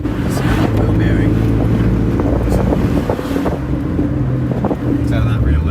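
A Nissan 300ZX twin turbo driving with a worn rear-left wheel bearing, giving a loud steady droning road roar with wind buffeting inside the moving car.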